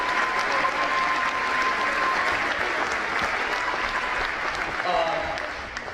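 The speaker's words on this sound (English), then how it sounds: "So if we could start by a round of applause for all the players and past players and kid players." A gym crowd at a boys high school basketball game between Kearsarge and Monadnock gives a sustained round of applause honoring players. The clapping is steady, full and fairly loud, fading slightly at the end.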